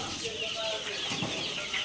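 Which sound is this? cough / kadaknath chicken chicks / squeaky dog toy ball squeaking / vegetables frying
kadaknath chicken chicks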